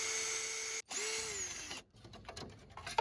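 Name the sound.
unscrewing Phillips screws from car headlight trim piece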